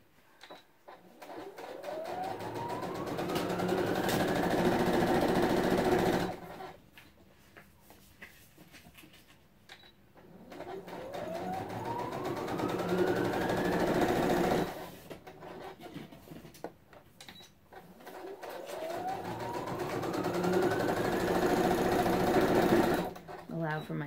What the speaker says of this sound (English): I'm going to always do your back stitch to lock it in.